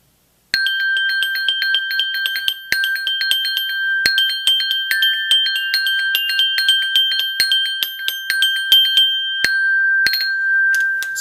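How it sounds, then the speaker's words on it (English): Bell kit rudiment exercises: bright metallic strikes in steady rapid patterns, ringing notes sustaining between hits, played close and alone over about ten seconds. "rudiment type exercises for the bell kit"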